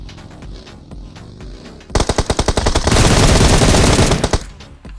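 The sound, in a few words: gunfire in BGMI PUBG Mobile video game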